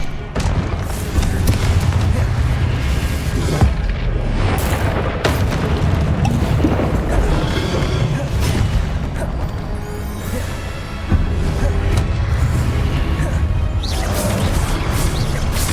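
Repeated Confringo blasting-spell explosions in the Hogwarts Legacy video game, heavy booming crashes and thuds landing one after another over a dense, continuous battle soundscape.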